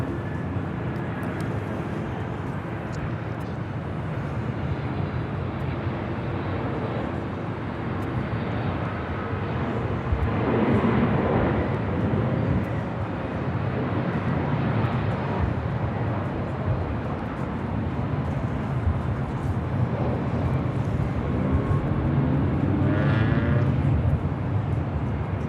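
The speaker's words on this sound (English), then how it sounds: "Delta Airlines flight 685 coming in from JFK." A Delta Airlines Boeing 767-300ER airliner arriving at Los Angeles International Airport from JFK, a sustained broadband jet roar that swells gradually as it approaches, with no talk.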